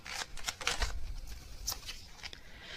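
Tarot message cards being shuffled by hand, a quick series of close riffling and slapping bursts with no talk.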